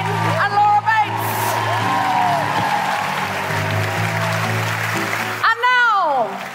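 A live comedy audience breaks into a long, steady round of applause with scattered whoops, and a voice talks over the clapping before it dies away.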